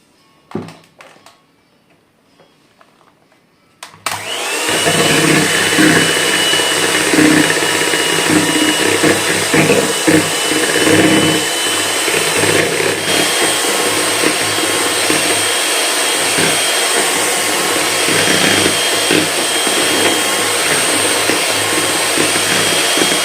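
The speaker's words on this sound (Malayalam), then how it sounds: "നമുക്കത് നന്നായിട്ടൊന്ന് അടിച്ചു കൊടുക്കാം കേട്ടോ മെഷീൻ വെച്ചിട്ട്" An electric beater whips sugar with vanilla essence, starting after a few seconds of quiet and then running as a loud, steady motor whine with a rough whirring rattle from the mixing; nobody talks.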